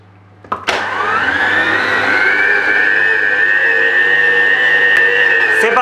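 A stand mixer kneads pain de mie bread dough: after a couple of clicks, a loud motor whine rises and holds steady and continuous to the end, with no talking.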